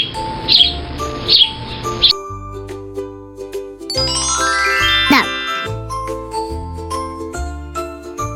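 A cartoon sparrow chirps in quick, bright bursts over the opening two seconds, then a jingling chime run and light music carry on to the end.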